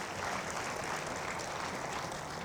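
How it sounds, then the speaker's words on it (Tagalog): A church congregation during a sermon gives a steady wash of applause, even and continuous, heard from a distance and fairly faint. "Isang malakas na palakpak sa Panginoon."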